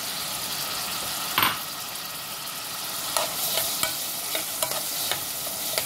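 Raw onion and tomato fry in oil in a pan, making a steady, close sizzle punctuated by several light clicks and scrapes from stirring.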